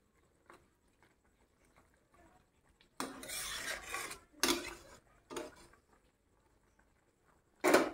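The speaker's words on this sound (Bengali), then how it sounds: "আমি গুঁড়ো মশলাটা ছড়িয়ে দিয়ে নাড়াচাড়া করে দিলাম" Ground spices are stirred into a thick jaggery pickle, giving several loud rasping, scraping bursts of a spoon against the pot, separated by quiet gaps and close up.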